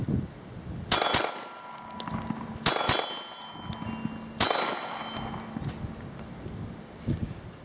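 Pistol shots ring out against steel targets: three loud, sharp cracks spaced a couple of seconds apart, each followed by a bright metallic ring that decays, with quiet outdoor ambience between.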